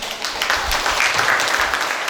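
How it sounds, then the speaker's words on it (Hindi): Audience applause fills a motivational business seminar hall, steady and dense clapping from a large crowd throughout, loud and continuous with no pauses. "ठोको ताली"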